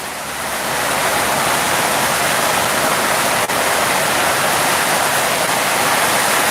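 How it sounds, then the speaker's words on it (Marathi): Heavy rain pours in a dense, steady roar that rises over the first second and then holds loud and unbroken, with no voices. "पावसाचा जोर हळूहळू वाढू लागला"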